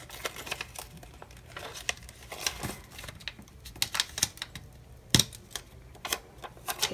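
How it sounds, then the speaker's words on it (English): Planner sticker paper is handled and ripped in a quiet room, giving scattered crinkles, rustles and sharp tearing snaps, with one louder rip about two-thirds through. "Ooh, I'm ripping it."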